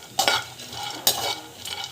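Cashews frying in a pan with a soft steady sizzle, broken by two sharp scraping stirs of a utensil against the metal, close and moderately loud.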